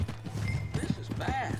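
Horse hooves clip-clopping at a steady walk in the Red Dead Redemption video game, heard under a man's speech and game sounds.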